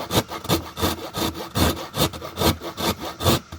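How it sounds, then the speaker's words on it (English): A 1-inch round rasp enlarges a hole in a wooden table top for a chain stitch machine with about eight quick, rhythmic, close scraping strokes. "I think this is a 1-inch round rasp."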